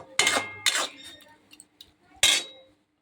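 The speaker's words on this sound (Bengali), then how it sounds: "চিনিটা দিয়ে একটু নাড়িয়ে নিই" A spoon stirring sugar in a cooking pot in a home kitchen, with a few distinct metallic scrapes and clinks separated by quieter gaps.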